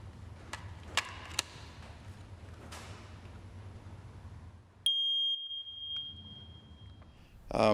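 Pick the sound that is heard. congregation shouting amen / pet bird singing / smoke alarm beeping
smoke alarm beeping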